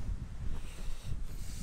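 Strong wind buffets the microphone outdoors during work on an E30 325iX being parted out, a steady loud rumbling roar with gusty surges and no voices.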